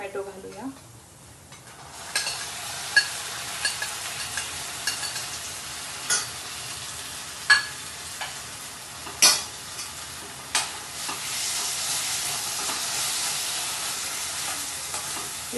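Finely chopped tomatoes sauté in oil in a pan for pizza sauce, a steady sizzle joined by repeated sharp clinks and scrapes of a spoon against the pan, close by, with no talk.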